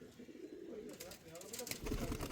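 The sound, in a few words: Andhra pigeons cooing in a loft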